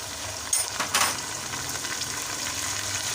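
Tomatoes hit a pan of frying garlic and ginger while cooking spiced kaleji: a steady, loud, close sizzle with a couple of sharper bursts as they drop in, continuing without talk.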